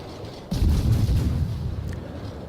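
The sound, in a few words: naval guns firing in a warship video game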